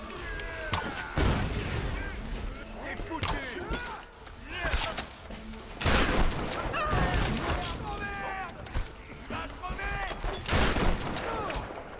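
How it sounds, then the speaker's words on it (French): Rapid gunfire bursts and booms crackle through a firefight in the video game Tomb Raider 2013, shots stacking in quick volleys amid chaotic effects, with someone talking over the action. "je tire sur ceux qui sont en haut"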